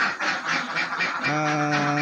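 Laying ducks on a farm quack and honk loudly and repeatedly, several birds overlapping close by in a noisy, continuous chorus.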